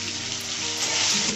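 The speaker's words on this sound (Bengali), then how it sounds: "ভালো করে পেঁয়াজটাকে ভাজি।" Chopped onions for a mutton curry frying in a pan, giving a steady, close, loud sizzle that holds throughout and swells slightly toward the end.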